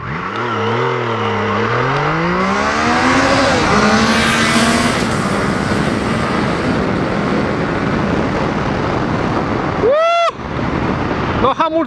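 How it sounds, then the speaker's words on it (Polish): A loud Triumph Tiger Sport 660 (2022) motorcycle engine rises and falls in pitch as it speeds up, then brakes sharply, followed by a brief squealing whine near the end. "Zobaczcie, jak on hamuje."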